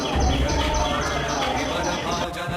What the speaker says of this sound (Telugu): మీరే చూడరి ఆ పక్షులు ఆ శబ్దాలు